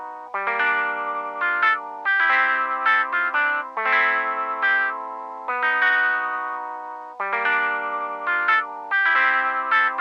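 A finished FL Studio melody plays back with strummed, chorus-like and slightly distorted effects: bright layered synth chords in repeating rhythmic phrases, steady and full, with no talking.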